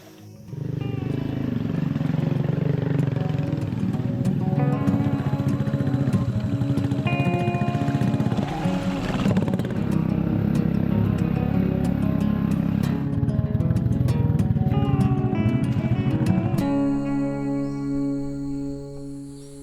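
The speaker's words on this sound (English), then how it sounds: "we first had to navigate a 4-hour motorbike trip through the dense rainforest to get to the village" A motorbike rides through dense Sumatran rainforest, its engine droning steadily and rising in pitch now and then, close and loud for most of the stretch, then giving way to quieter forest ambience near the end.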